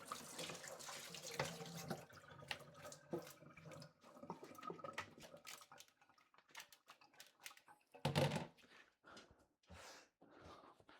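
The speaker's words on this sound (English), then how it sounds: "Wash my rice." Rice washed under a running kitchen tap, water streaming into a pot with scattered clinks and rattles of grains and cookware, close and faint, no talking.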